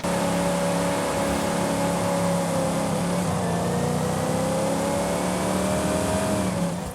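AMC Rebel "The Machine" muscle car engine in Forza Horizon 5, revving and holding high in a loud, sustained drone with rising and falling pitch, close and alone without talk.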